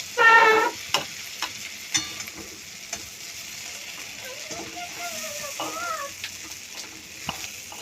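Potato and pointed gourd fry in oil in a wok, with a steady sizzle, occasional sharp stirring clatters and spattering. A voice speaks over the cooking partway through.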